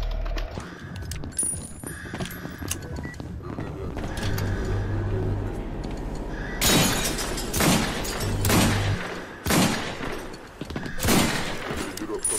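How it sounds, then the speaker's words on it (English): A series of loud video game gunshots rings out, five sharp cracks spaced a second or two apart, over ongoing game sounds and low mechanical hums. "Five shots, five kills"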